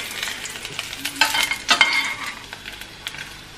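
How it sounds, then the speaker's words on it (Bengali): Vegetables frying and being stirred in a pan over a medium flame, a steady close sizzle with a few louder stirring bursts and no talking. "মিডিয়াম ফ্লেমে এইভাবে সুন্দর করে ভেজে নিতে হবে।"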